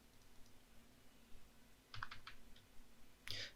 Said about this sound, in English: Now I'm gonna type in equal indirect,